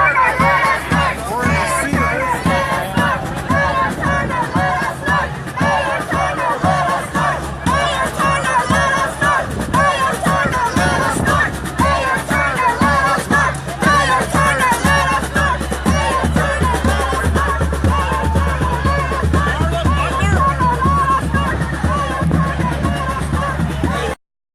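Dense protest crowd outside the Super Bowl in Houston, a steady wall of shouting, chanting and babbling voices pressing close around, loud and unbroken throughout with occasional whoops rising above the hubbub.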